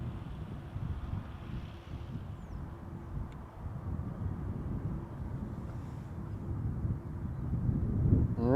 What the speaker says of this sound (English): that also looks like a Dreamliner coming our way